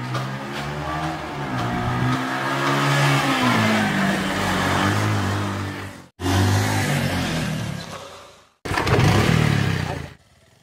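A vehicle engine revving loudly as the rider pulls away, rising and falling in pitch with sustained acceleration, cut by two abrupt breaks before a final short burst.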